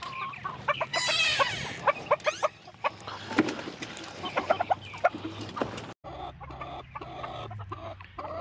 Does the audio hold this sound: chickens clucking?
yes